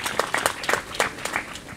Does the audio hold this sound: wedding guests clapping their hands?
yes